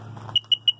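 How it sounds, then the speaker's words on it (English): Sea-Doo DESS post gives a short electronic beep pattern, a brief low hum followed by a quick series of bright, evenly spaced high beeps, close and clear with no voices. "Look at that. 2 beeps."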